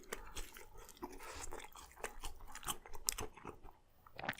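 Close, crisp crunching and chewing of restaurant fries alongside a ribs meal at TGI Fridays, a steady run of irregular bites and mouth sounds with no talking.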